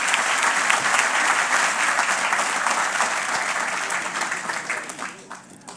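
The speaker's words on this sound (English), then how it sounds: "Another round of applause, please." A large audience at a Department of Corrections fiftieth-anniversary ceremony breaks into dense, sustained applause that holds strong before thinning and fading out toward the end.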